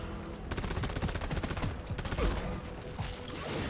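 Dense rapid gunfire fills the whole clip while a player shoots a shellback in the video game Deep Rock Galactic, playing as the Scout with the Gas Recycling overclock. The shots come in fast bursts that sound close, loud and continuous.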